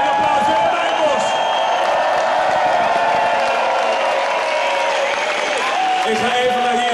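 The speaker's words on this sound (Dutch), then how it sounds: "Geef een applaus" A crowd at a homecoming celebration for the Dutch women's hockey team after Olympic gold in London claps and cheers at Holland Heineken House, a steady, dense roar of applause that continues without a break.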